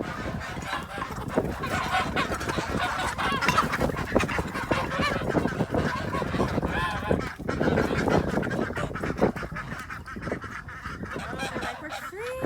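Geese and ducks honk loudly and continuously inside a converted silo that serves as a duck, goose and chicken house on a homestead in the morning. The calls overlap densely and close by throughout.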